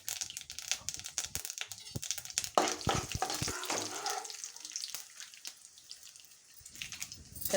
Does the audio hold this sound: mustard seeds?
yes